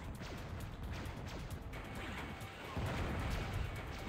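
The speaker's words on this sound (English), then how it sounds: "Let me just see if I can try and shoot with some missiles here." Missiles fired in the PS1 game Descent, a loud, continuous roar of launches and blasts with whooshing and crashing textures throughout.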